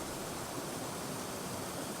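A woodland river rushing nearby, a dense, steady roar of flowing water filling the whole clip with no pauses or other sounds.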